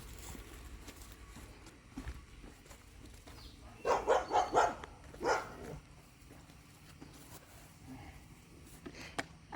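Dogs barking in a short burst of several sharp barks near a campsite where a Coleman 17B camper trailer is being loaded, standing out clearly from quiet outdoor background before and after.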